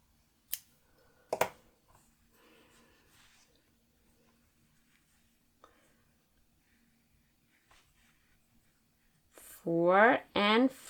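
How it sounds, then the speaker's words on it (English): Scissors snip through crochet yarn during work on an amigurumi mouse body, giving two quick, close, sharp clicks near the start, then near-silence before a brief burst of talk at the end. "so let me cut this one."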